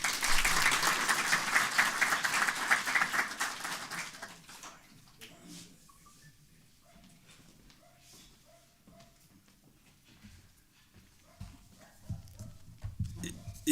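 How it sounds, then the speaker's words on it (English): An audience at an animal health meeting claps for a speaker, loud dense applause for about four seconds that fades out, followed by quieter room shuffling, footsteps and a voice. "Let's clap for him."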